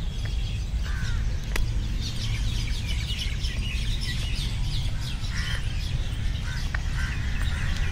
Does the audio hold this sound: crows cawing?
yes